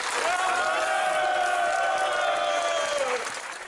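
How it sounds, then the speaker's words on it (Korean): A crowd cheers and applauds loudly as UNESCO declares Korea's Joseon-era Confucian academies, the seowon, a World Heritage site. There are sustained whoops and shouts over the clapping for about three seconds, and then the noise fades. "유네스코가 조선시대 교육기관인 서원을 세계문화유산으로 지정한다며 선포하자 환호성이 터져나옵니다."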